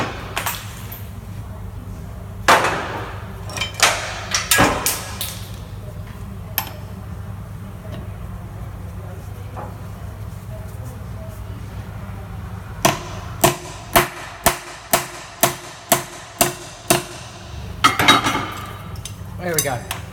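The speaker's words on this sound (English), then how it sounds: "I'm going to hit the top of the socket to try and shock the bolt whilst I'm pulling it down" A hammer strikes a socket on a locking wheel nut while a breaker bar is pulled, sharp metallic clanks that come singly at first and then in a rapid run of about ten hits.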